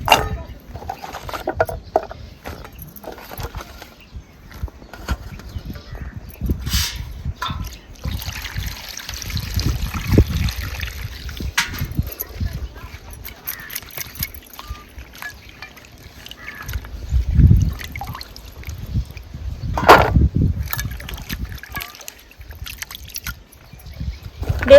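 Water sloshes and trickles in a basin as vegetables are rinsed by hand, with intermittent splashes and quieter gaps between them.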